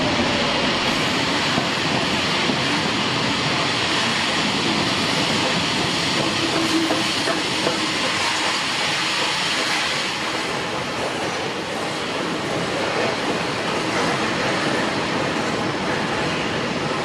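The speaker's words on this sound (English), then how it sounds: "the train begins to move off to Appleby without any obvious warning" Steam locomotive 34067 Tangmere rumbles steadily nearby with a broad hiss and faint rhythmic rattling of wheels as it departs Carlisle, continuing without pause as it moves off.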